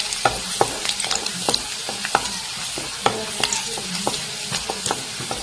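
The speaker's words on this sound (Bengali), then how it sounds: "রসুনটা আমি একটু ভাজা ভাজা করলাম না।" Garlic frying in hot oil in a pan, a loud close sizzle broken by repeated scraping stirs and clinks of a spatula at an irregular rhythm, with no talk.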